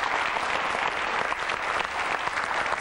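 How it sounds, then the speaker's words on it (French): A television game-show studio audience applauds the contestants, a dense, steady wash of many hands clapping at close range throughout. "Allez, on les applaudit une dernière fois."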